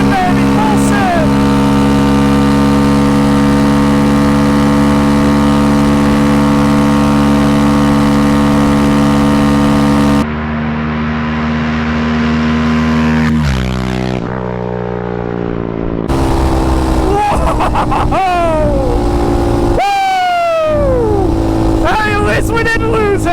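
A Yamaha Raptor 700 ATV running VP 110 race fuel revs hard at full throttle, a loud steady engine drone for about ten seconds, then shifting and climbing through rising pitch sweeps as it accelerates toward top speed, with wind buffeting.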